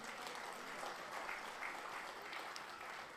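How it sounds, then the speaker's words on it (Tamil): Audience applause during a public speech, a continuous even wash of clapping from a crowd, fairly faint and distant. "கைதட்டுங்க."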